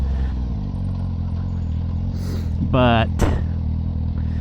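A 2016 BMW S1000RR engine hums steadily at low revs while riding on a cold day, with a rider talking over it and a brief rising whine near the end.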